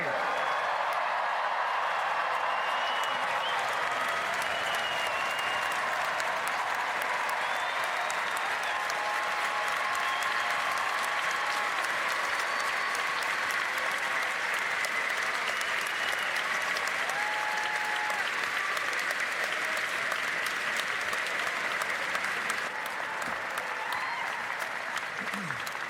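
A large crowd at a Davidson College ceremony retiring Stephen Curry's jersey applauds and cheers continuously, a dense steady roar of clapping with scattered shouts throughout.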